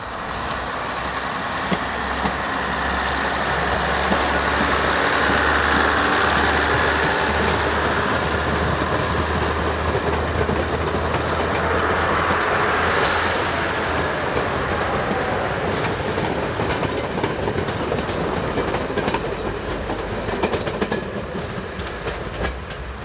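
British Railways Derby-built diesel multiple units, built 1958–1961 at Derby Works, pull away from a heritage line station with a loud, steady engine roar and rolling wheel noise that continues throughout.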